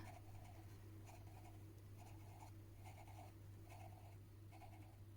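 Pencil scratches across paper in short, repeated strokes, soft and close, over a steady low background hum.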